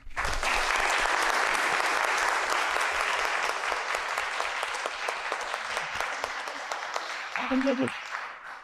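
Strong, dense applause from an audience honoring the authors at a book presentation on personal data protection, sustained and steady before tapering slightly, with a brief voice near the end.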